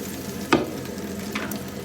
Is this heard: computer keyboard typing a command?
no